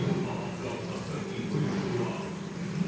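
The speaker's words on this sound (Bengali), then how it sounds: "তাই আর একটু বেশি জল দেবো।" Water poured into a semolina mixture, a soft continuous trickling splash heard close and fairly quiet for a few seconds.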